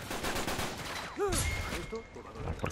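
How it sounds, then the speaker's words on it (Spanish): Rapid gunfire from the video game Uncharted 3 during a co-op round in Syria, a dense continuous stream of shots mixed with voiced exclamations over the top. "Están disparando mucho"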